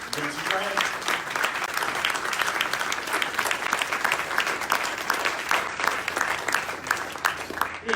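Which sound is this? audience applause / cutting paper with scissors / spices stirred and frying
audience applause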